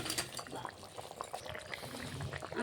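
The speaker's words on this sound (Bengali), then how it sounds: "ঝোলটা ফুটে উঠেছে, আলু করলাটা গলে গেছে, এখন ভেজে রাখা মাছগুলো দিয়ে দেবো।" A potato and bitter gourd curry bubbles in a pot as fried fish is added, soft liquid boiling and splashing close by, fairly quiet, with a voice talking over it.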